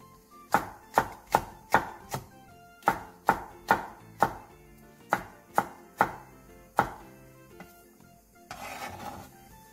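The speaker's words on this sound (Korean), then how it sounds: "양파 4분의 1개를 채 썰고 대파 2분의 1개, 청양고추 2개, 홍고추 2분의 1개는 어슷썰기 해주세요" A knife chops through quarter of an onion, half a green onion and green and red chili peppers on a cutting board, giving about a dozen sharp, evenly spaced, close cuts, then a brief rustle at the end.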